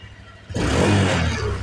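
Honda Click 125 scooter with a 59mm MTK big-bore block and stock exhaust revs sharply from quiet, a sudden loud rasping burst that holds briefly then eases slightly.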